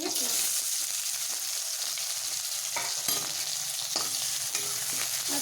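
Cumin, mustard seeds and chopped green chillies fry in hot oil for a bhindi curry, a close, continuous crackling sizzle broken by brief scrapes and clatters of stirring.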